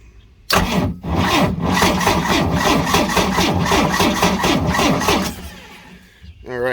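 An old two-stroke outboard on a pontoon boat that has sat unused for ten years cranks over, a loud, close, rapid chugging that starts abruptly, runs for several seconds without catching, then cuts off, followed by brief indistinct noise.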